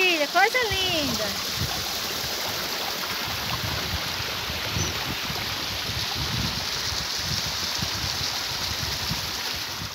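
Continuous broadband rush of a flowing stream at Cachoeira do Souza, partly hidden by grass, steady and close throughout, with a brief whistle-like sweep at the very start.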